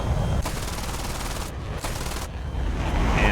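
Cannon fire from an F4D-1 Skyray jet in the War Thunder air simulation: a loud, continuous roar of rapid gunfire with two short sharper bursts standing out partway through.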